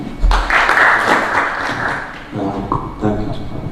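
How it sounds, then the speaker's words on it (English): A small audience claps during a live-streamed course session, a brief burst of applause that fades as a speaker's voice continues over and after it. "Clap for you."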